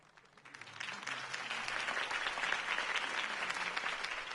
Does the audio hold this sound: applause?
yes